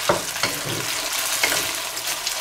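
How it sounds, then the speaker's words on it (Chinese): Egg tofu stir-fries in plenty of cooking oil in a wok, with a loud, close sizzle and a few sharp scrapes and clatters as it is tossed. "把豆腐里的水分给它炒出去"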